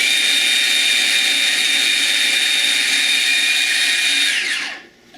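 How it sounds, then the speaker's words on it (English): A blender whirring at high speed through chili garlic sauce with a loud, steady, close whine, then winding down and stopping near the end. "And then we're going to blend this up."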